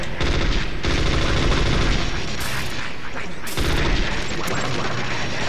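Rapid FAMAS assault-rifle fire in Metal Gear Solid, loud, dense bursts with sharp booming reports running nearly continuously, with a few brief breaks between volleys.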